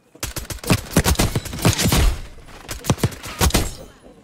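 Rapid bursts of gunfire in the video game Black Ops 6, dense loud repeated shots with thumps, continuous for a few seconds with brief gaps.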